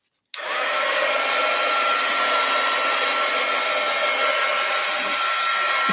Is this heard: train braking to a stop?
no